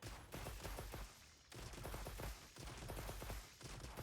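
Rapid light bowgun shots from a monster-hunting action video game with a rapid-fire mod fitted, fired in fast bursts of closely spaced cracks that pause about once a second, loud and close over busy game sound.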